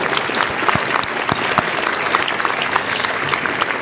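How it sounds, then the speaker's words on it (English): Dinner audience applauding steadily for an award recipient, the CEO of Bourse Dubai, at a financial services dinner, a dense sustained wash of clapping with no talk. "Yes, let's give applause to Per."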